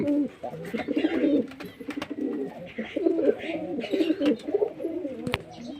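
Pigeons in a home loft coo close by in continuous overlapping throaty calls, with occasional soft clicks and rustles.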